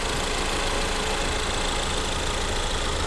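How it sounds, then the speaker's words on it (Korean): A fifth-generation Ford Explorer 2.3 Limited 4WD engine idling steadily up close, a constant dense rumble with an even hum and no voices. "엔진 소리 일정합니다"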